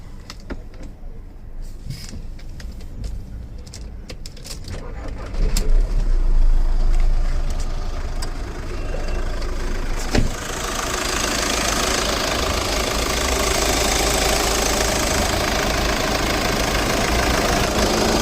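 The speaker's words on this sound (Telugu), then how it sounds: "చాలా స్మూత్ ఉంది ఇంజను" A 2016 Skoda Rapid diesel with automatic transmission starts up and settles into a steady idle, a low continuous rumble that swells after a few seconds of quieter clicks and handling noise, with one sharp knock midway.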